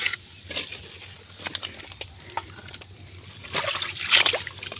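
Water trickles and patters softly in a small creek during a crab hunt, with scattered faint splashes and drips that grow slightly busier near the end.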